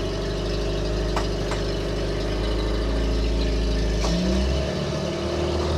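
A cold Renault Estafette van engine idles steadily on choke, a continuous close rumble that shifts in pitch and drops near the end.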